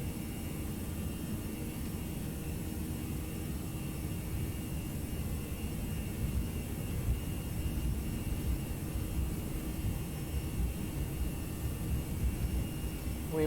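Simulated jet engines of a ToLiss A319 airliner roll down the runway for takeoff in the X-Plane 11 flight simulator, a steady broadband roar that swells slightly midway, continuous and fairly loud with no voices.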